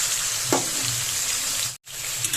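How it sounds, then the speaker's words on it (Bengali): Washed ridge gourd with salt hitting hot oil for a Bengali jhinge aloo posto, giving a loud, even sizzle with a quick stirring clatter and a momentary break partway through. "তেল গরম হয়ে গেছে এবার আমি ধুয়ে রাখা ঝিঙেগুলোকে দিয়ে দেব"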